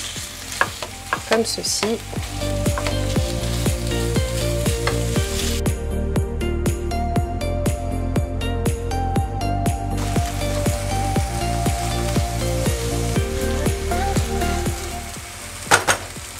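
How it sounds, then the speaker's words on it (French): Ground meat fries in a hot pan and is mashed with a spatula, giving a loud, constant sizzle with rhythmic scraping strokes throughout and a brief spoken phrase near the end. "avec la spatule, vous écrasez la viande"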